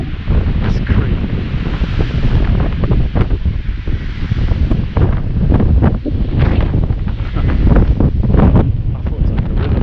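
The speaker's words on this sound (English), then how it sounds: "wind through these trees" Strong wind rushing through trees at an ancient Bronze Age hillside site, a loud, continuous roar with heavy gusty buffeting against the microphone and no clear pauses.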